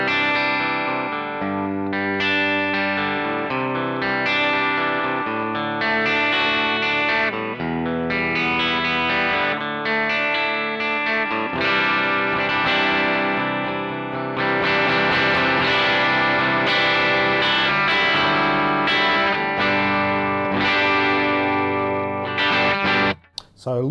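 Guild S100 bridge humbucker through a Marshall JTM 1 head on a clean tone plays steady chords and single-note phrases for the whole stretch, full and ringing, ending abruptly.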